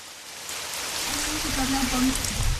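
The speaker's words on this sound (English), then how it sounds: "Joanayili, a farming community in the Nanumba North Municipality of the Northern Region, is soaked in rain." Rain falls steadily on a farming community in Ghana's Northern Region, a broad, even hiss that swells a little over the span, with a faint voice-like murmur under it.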